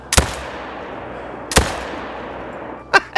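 Two sharp rifle shots from a video game hunt for Himalayan tahr in Te Awaroa ring out about a second and a half apart, each with a long fading echo, followed by two quicker mechanical clacks of reloading.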